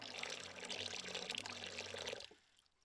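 Running water from a tap inside a converted bus home, a steady splashing pour that stops abruptly near the end, fairly faint.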